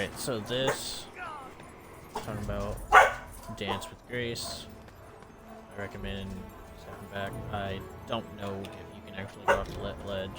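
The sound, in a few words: dogs barking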